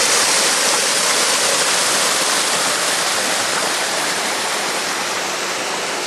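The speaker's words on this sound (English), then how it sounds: "This clean water is moving gently down the stream." Clean water flows steadily down a drainage stream in the Kapchembo area near the Njoro river, a constant close rushing wash with no breaks or talking.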